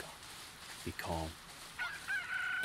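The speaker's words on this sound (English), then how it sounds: "We'll have so many chickens." A chicken crows in the video game Dragon Quest Builders 2: a short, fairly faint crow with honk-like bursts set against quiet background sounds.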